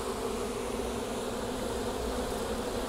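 Honey bees crowd a hive frame, producing an even, dense buzzing hum that holds steady and near throughout, alone without speech.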